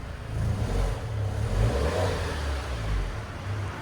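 A 2019 Alfa Romeo Giulia with a 2.0L turbo engine and stock exhaust revs up and settles again. The rumble is low and fairly subdued, with gentle swells in level and no talking.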